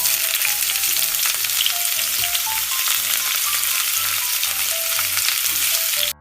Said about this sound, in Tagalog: ilalagay ko na nga rin dito yung giniling